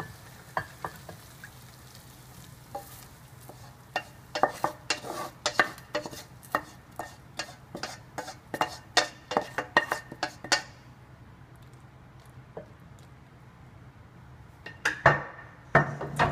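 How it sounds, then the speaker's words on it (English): Prawn curry is scooped and scraped from a pan into a serving dish after an induction cooktop is turned off, giving a run of sharp clinks and scrapes of a utensil against cookware, sometimes clustered and sometimes spaced, with quiet pauses in between. "And I am taking out my prawn curry into my serving dish."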